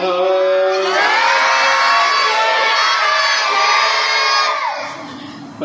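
A crowd shouts a Sikh jaikara at a Khalsa Mission free school gathering: a single loud, sustained collective cry rises after a brief lead-in, holds for about four seconds with mixed voices including children, then trails off.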